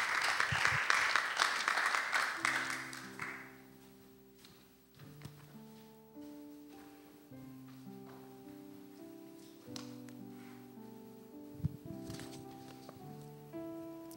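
Applause from a church congregation fills the first few seconds with dense clapping that fades away, after which piano or organ chords play on alone.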